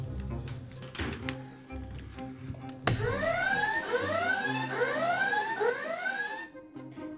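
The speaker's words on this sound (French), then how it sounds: "Julie, pourquoi as-tu déclenché l'alarme des secrets?" The secrets alarm in the Secret Story reality-TV house goes off after a thump, with repeated rising electronic siren sweeps blaring loudly for several seconds.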